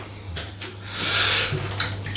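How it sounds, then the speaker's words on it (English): Hot water poured into a basin while preparing for a wet shave with a safety razor, a hissing, splashing stream that swells in the middle and trails off, fairly close and alone. "You pour some water, prepare yourself some water."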